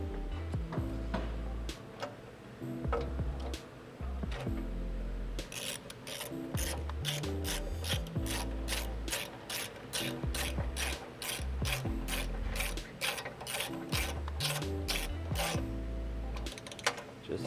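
A ratchet tightens bolts on a transmission pan shield under a 2023+ Nissan Z with an automatic transmission, giving close, rapid, even clicking strokes in long repeated runs.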